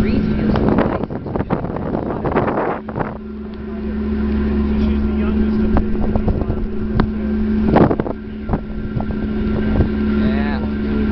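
A Halifax Transit ferry crossing at dusk, its engine holding a steady low drone under a light wind buffeting the microphone, while someone talks over the ride.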